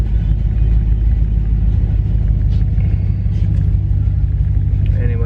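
A car with a Hemi 5.7 L engine rumbles through a loud exhaust, a deep steady low-end drone that holds constant for several seconds at close range.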